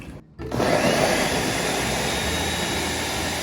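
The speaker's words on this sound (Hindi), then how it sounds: "और इन सबको हम अब ग्राइंड कर लेंगे ग्राइंडर में।" An electric grinder starts up with a sharp click and then whirs at a loud, steady roar, blending tomato soup ingredients with water, close and uninterrupted.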